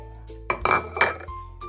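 Ceramic dish clinks as Indonesian asinan salak and rambutan is shifted onto a plate, a few short close clatters of utensil against dish with quiet between.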